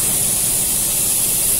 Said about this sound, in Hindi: नीचे से भी पूरा डीजल का स्प्रे कर रहे हैं इंजन में